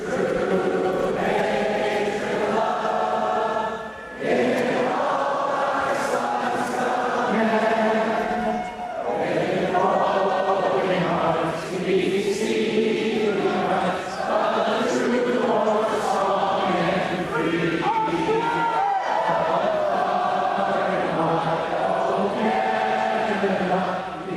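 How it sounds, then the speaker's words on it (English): A large crowd sings O Canada together at a political rally inside an aircraft hangar, a sustained massed chorus of many voices carrying steadily throughout with brief dips between phrases. "Here we have everyone singing "O Canada,""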